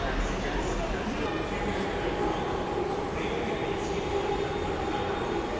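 A metro train rumbles past in a city. The steady, loud rolling noise fills the whole stretch, with faint voices underneath.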